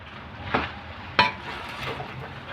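A spatula scrapes and clanks through special fried rice in a pan, two sharp metallic knocks against a soft sizzling, stirring bed, close and fairly quiet.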